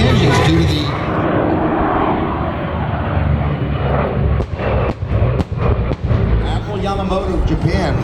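WWII fighter planes roar past at an airshow over the redwoods, a loud, dense engine drone that swells and holds, broken by a few sharp cracks near the end.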